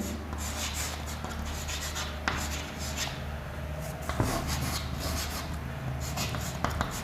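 Pen or marker writing out a physics question about a concave mirror, soft steady scratching strokes with occasional taps, faint and close, over a low background hum.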